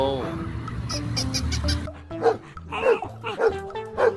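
A series of sharp dog barks, roughly one every half second, close by, with some other animal-like noises at the start.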